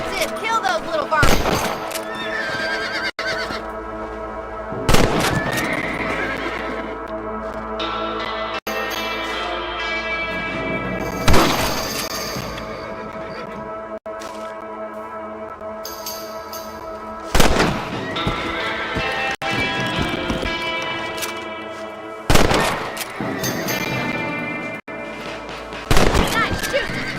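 Gunshots in Red Dead Redemption ring out as a few sharp, spaced cracks amid horse whinnies and clip-clopping hooves, with a voice talking over the scene.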